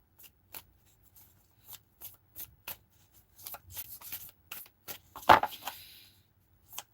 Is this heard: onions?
no